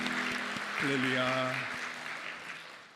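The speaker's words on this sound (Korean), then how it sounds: "기도의 박수 한 번 더 올려드리겠습니다." Applause from a church congregation during a Sunday worship service, steady clapping filling the room for a few seconds while a voice calls out and sustained organ or keyboard tones sound beneath.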